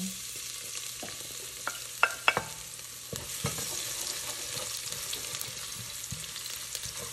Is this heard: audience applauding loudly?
no